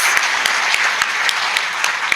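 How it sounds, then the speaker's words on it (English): Applause for a marketing and engagement panel at a small business forum in San Antonio, a steady patter of many hands clapping with a few sharper claps standing out, no voices over it. "Let's give them a round of applause."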